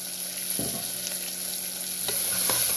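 Vegetables with cauliflower and small spring onions sizzle steadily in a pan for masala khichdi, with a few scraping stirs of a spoon cutting through the close, continuous frying hiss.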